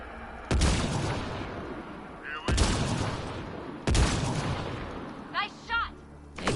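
Gunshots in the sci-fi shooter game Mass Effect Andromeda: three sharp, loud blasts spaced about one and a half seconds apart, each with a ringing tail, followed by a couple of fainter whistling electronic pulses.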